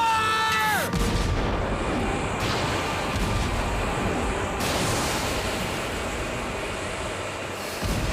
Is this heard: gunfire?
yes